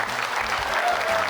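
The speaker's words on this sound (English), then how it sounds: "that deserves a round of applause for my first hour anglers that made money" Brief, steady round of applause from an audience at a bass fishing tournament weigh-in, dense clapping throughout with a low hum beneath.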